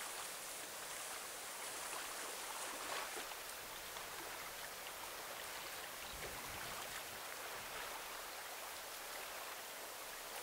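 River water flows continuously in a soft, even rush with fine bubbling detail, steady and unbroken for the whole stretch, calm and without any voices.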